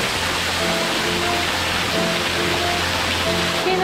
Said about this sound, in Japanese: 滝のカーテンみたい。